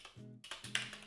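Computer keyboard typing in a short burst of several quick, close key taps with a faint low hum underneath, no talking.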